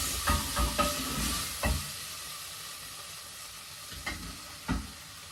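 Sausage fries quietly in a pan for gravy, a soft steady sizzle broken by a few faint knocks and scrapes of stirring, close but low in level.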